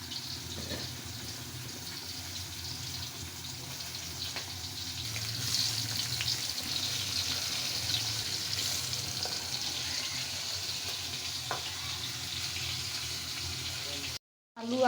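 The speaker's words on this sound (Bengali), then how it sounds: "সাথে আলুগুলো আমি একটু নুন মেখে ভাজা নিব" Salted potatoes and hilsa fish frying in hot oil in a home kitchen give a steady hiss and sizzle that swells after the first few seconds and holds, then cuts off briefly near the end.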